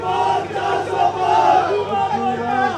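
A large crowd at the back of a BJP Vijay Sankalp rally with Chief Minister Nayab Singh Saini, shouting slogans in unison: a loud, continuous, surging roar of many voices.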